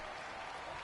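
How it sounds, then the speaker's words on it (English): Stadium crowd in the Madden 19 American football video game cheers steadily ahead of a big third down, a loud, dense roar that holds without a break. "the crowd getting into it as we come up on a big 3rd down"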